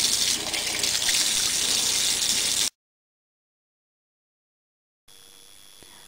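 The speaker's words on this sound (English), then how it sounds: "how many times have we seen running taps left ignored?" A running water tap left on gushes loudly and steadily for a few seconds, then cuts to silence, followed by a faint low hum.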